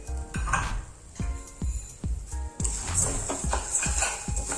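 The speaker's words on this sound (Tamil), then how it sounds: "இந்த சூட்லேயே சீரகமும் வெந்தயம் வறுப்பட்டுரும்." Cumin and fenugreek seeds roasting in a pan for a spice powder, with rhythmic scraping and clinking of a spoon against the pan over a light sizzle that rises in the second half, close by with no talk.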